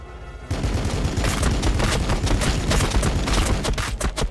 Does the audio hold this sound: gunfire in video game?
yes